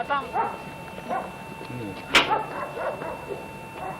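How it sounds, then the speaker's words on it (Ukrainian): A dog yips and barks several times close by, with a sharp loud bark near the middle, while people talk over it. "Родная собака."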